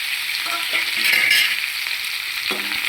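Cluster beans tossed into sizzling tempering oil in a pan, a loud continuous frying hiss with light stirring clatters, close and alone, swelling slightly midway.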